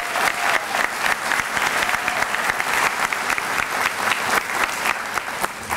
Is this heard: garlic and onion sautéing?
no